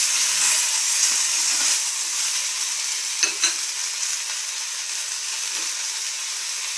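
Gongura leaves being stirred with turmeric in a hot pan give a continuous bright hiss of frying, broken by a few soft utensil scrapes and taps near the middle.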